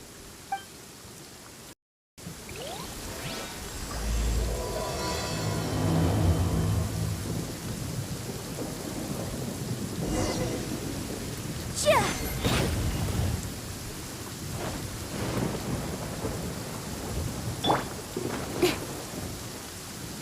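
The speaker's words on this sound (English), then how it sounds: "Thunder and lightning can be quite..." Rain and rolling thunder in the video game Genshin Impact: a steady downpour hiss with a deep rumble building early on, then sharper thunder cracks later, loud and continuous for about twenty seconds.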